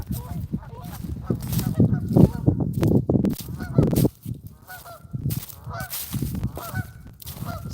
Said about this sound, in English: the geese are singing happy birthday to you